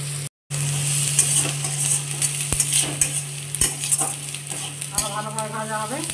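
Neem leaves fry in hot oil with a constant close sizzle and sharp crackles, joined by occasional scrapes and clinks of a utensil stirring in the pan and a steady underlying hum.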